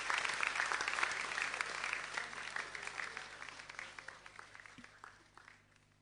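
Warm applause from an audience at a clean energy lecture honoring a U.S. Commerce Secretary, dense overlapping clapping that gradually thins and fades toward the end.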